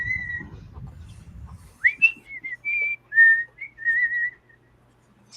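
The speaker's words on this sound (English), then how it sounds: "We probably shouldn't be whistling that too much more." A person whistles a short tune, clear sustained and sliding notes in a melodic phrase, close and prominent, after a brief stretch of low background rumble.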